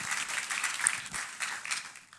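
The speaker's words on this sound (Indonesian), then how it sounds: "tepuk tangannya boleh yang paling meriah buat Tuhan kita" Church congregation clapping in a sustained, even burst of applause for about two seconds, moderately loud and filling the room, with no voices standing out.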